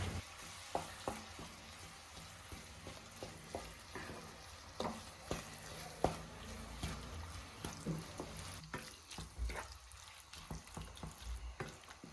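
Tiger prawn masala with onion fries quietly in a pan as it is stirred, a soft sizzle under a run of repeated scraping and tapping strokes, close but faint and free of talk.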